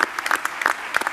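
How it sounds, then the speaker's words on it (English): An audience applauds panelists at the close of a session at a 2017 development and entrepreneurship event in Argentina, with a short burst of clapping from many hands, fairly close and crisp. "I hope that we can just give them a round of applause"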